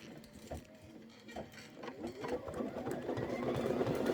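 An embroidery machine stitches a decorative tack-down on a tea towel, its needle beating a rapid, steady mechanical patter close by, gradually growing louder with no talking.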